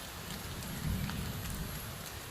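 Steady rain falling again outdoors, a dense even hiss of drops with a slight swell in the middle, fairly quiet and with no voices.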